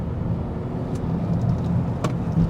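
A 2023 BMW X1, a third-generation small SUV, is driven briskly through turns, giving a steady road and engine rumble with brief tire or wind bursts; no voices.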